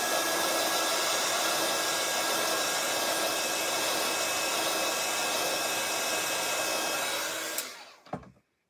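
A heat gun or hair dryer blows steadily and loudly for about seven and a half seconds, drying ink on a paper craft project, then cuts off abruptly, leaving a couple of small clicks and quiet.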